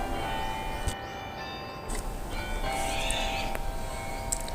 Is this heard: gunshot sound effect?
no